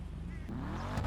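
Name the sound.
Karin Sultan Classic car engine accelerating, video game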